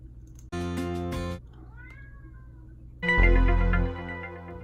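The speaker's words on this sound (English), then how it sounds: "That was my cat." A house cat gives a short, clear meow, then after a quiet pause lets out a longer, louder and more drawn-out meow, close to the microphone in a quiet room.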